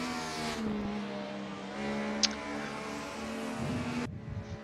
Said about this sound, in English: So his opportunity to do the Seb Vettel rock up, set a blistering lap